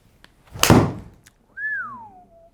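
A broadband thwack near the start as a golf club strikes the ball during a fitting session with a KBS Light 100 stiff shaft, followed a second later by a rising-then-falling whistle-like tone.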